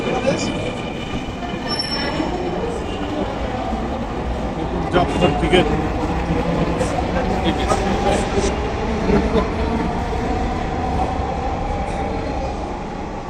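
A train at a Bangladeshi station rumbles and clatters steadily with some wheel squeal, while people talk over it throughout.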